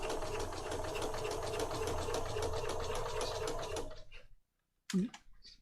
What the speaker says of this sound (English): you might just have to bend your file folder in a little bit to get it through the throat of your machine